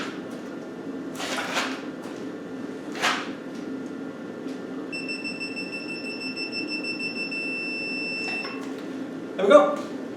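A digital torque wrench gives a steady electronic beep for a few seconds while torquing a Land Rover 200Tdi cylinder head, amid background room noise and brief clunks, with a person talking faintly nearby.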